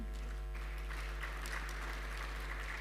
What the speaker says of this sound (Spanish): a quien también le brindamos un fuerte aplauso